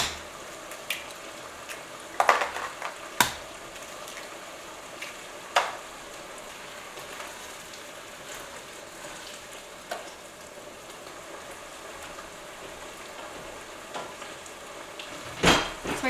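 Breakfast burrito filling fries on a stove in a steady low sizzle, with scattered clinks and taps of a utensil against a pan and a couple of sharper knocks near the start and end.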